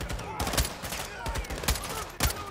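Gunfire in the video game Call of Duty Modern Warfare II: rapid bursts of shots and fusillade, loud and close, with several sharp reports over a busy game background.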